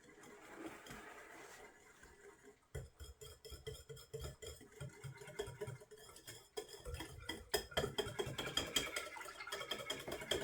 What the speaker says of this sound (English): Now we are going to mix and mix and mix and mix.